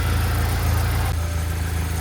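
A car engine idles with a steady low rumble and slight vibration, then drops abruptly to a lighter, smoother idle about halfway through, with no voices.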